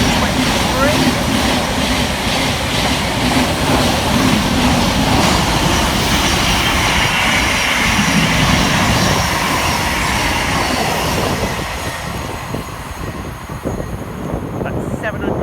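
Thameslink Class 700 electric trains passing through Hendon, a loud continuous rumble and hiss of passing carriages that fades slightly near the end.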